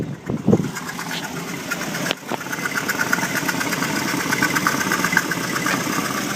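A 1975 Dodge motor home with a fuel pump leak idles after startup, a steady mid-pitched engine rumble with a brief dip early on, running alone without talk.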